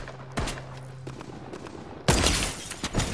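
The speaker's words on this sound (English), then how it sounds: "I sniped him hard" Gunfire in the video game Fortnite, where a sniper rifle is used: a sharp shot near 0.4 s, then a loud burst of shots from about 2.1 s with further cracks near the end.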